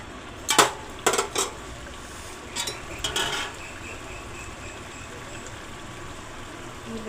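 Fish curry stirred in a pan while cooking, a handful of metallic scrapes and clinks in two short clusters, close and fairly clear over a low background hum with some speech around.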